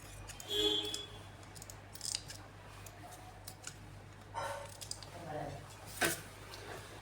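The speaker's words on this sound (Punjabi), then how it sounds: "ਹੁਣ ਜਿਹੜਾ ਇਹ ਵਾਲਾ ਕੱਪੜਾ ਫਾਲਤੂ ਹਨਾ ਇਹਨੂੰ ਆਪਾਂ ਬਿਲਕੁਲ ਇੱਥੋਂ ਨਾਲ ਨਾਲ ਕੱਟ ਦੇਣਾ" Scissors snip through excess fabric on a lined salwar, giving a few sharp, close clicks and crisp cuts with pauses between them over a low steady hum.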